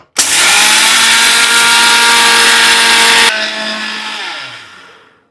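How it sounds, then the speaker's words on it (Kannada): A mixer grinder grinding black urad dal with cardamom whirs loudly at full speed for about three seconds, then switches off and winds down with a fading whine. "ಮಿಕ್ಸಿ ಹಾಕೋಣ ಇವಾಗ."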